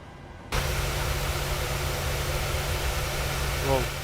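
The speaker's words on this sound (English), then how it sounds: "So loud, the engines." Jet engines of a PMDG 737-800 in Microsoft Flight Simulator start up abruptly into a loud, steady roar with a constant low hum, holding evenly throughout.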